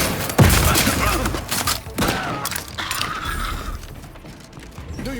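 Explosions and rapid gunfire erupt in a battle in The Outer Worlds 2 video game, a sharp blast followed by bursts of shots and crashing impacts that gradually thin out near the end.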